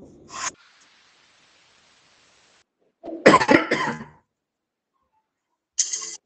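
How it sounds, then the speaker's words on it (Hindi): A person coughs: one short cough, then a harsher burst of several coughs, and a final brief cough after a pause, close and loud. "चलिए खांसी भी आ रही है।"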